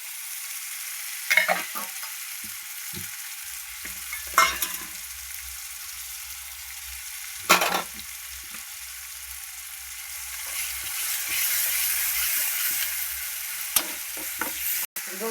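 Chicken curry masala sautéed in a pan, a soft steady sizzle with a few sharp scrapes of stirring at intervals, growing a little louder toward the end, with no voices.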